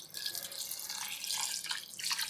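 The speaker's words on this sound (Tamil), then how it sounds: "சாதம் சேர்த்திட்டு ஒரு 2 கப்பு தண்ணி ஊற்றிடலாம்." About two cups of water are poured onto soaking rice and cooked rice for appam batter, a soft, close splashing trickle with small bursts of higher gurgles.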